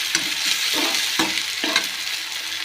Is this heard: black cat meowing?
no